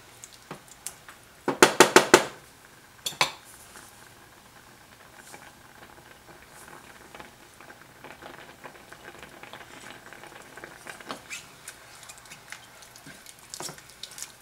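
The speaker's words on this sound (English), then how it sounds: "Just move the meat around, like this, that does get burned on the bottom, like that." Bolognese meat being stirred in a pan as wine cooks off, a faint steady sizzle and bubbling with a quick burst of sharp clatters near the start, then soft scraping and ticks.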